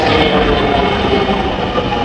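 A train pulls into a station, a loud, close, continuous rumble with rolling rail noise filling the short stretch, no voices.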